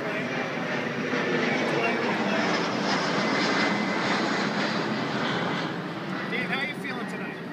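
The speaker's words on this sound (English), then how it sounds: "Here's one plane." An airplane flies overhead with a steady, broad engine roar that swells and then slowly fades, loud and close, while a person talks beneath it.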